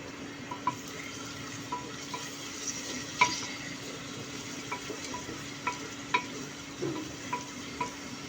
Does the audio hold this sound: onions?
yes